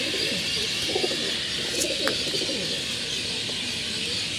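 Pigeons from a single pedigree line coo continuously at close range, with soft overlapping throaty calls and a few brief chirps over a steady background hum.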